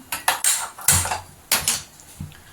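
Metal kadai frying pan set on a stove in a home kitchen, several sharp clanks and clatters of metal on metal in an uneven sequence, close and fairly quiet, with no talking.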